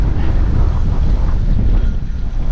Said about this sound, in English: Very windy out here too.